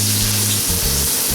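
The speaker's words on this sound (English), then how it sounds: "After it starts sizzling at that golden temperature" Steady broadband sizzle of onions frying in hot cooking oil in a pan, close and continuous, with a low hum underneath.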